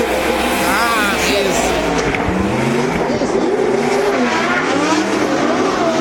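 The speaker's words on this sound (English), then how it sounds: "those two cars rocket out of the start gate" At the Drift GP Top 16 at Hungaroring in 2017, two drift cars roar hard off the start gate with engines revving and tires squealing, loud and continuous, while a commentator talks over the noise throughout.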